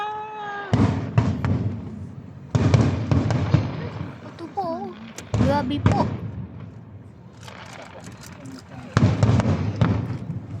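Fireworks bursting in a series of loud booms and crackling volleys in an outdoor display, with excited voices talking and exclaiming between and over the explosions.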